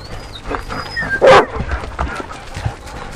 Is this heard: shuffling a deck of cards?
no